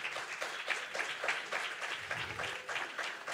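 A church congregation applauds, many hands clapping in a steady, moderately distant patter that carries on throughout.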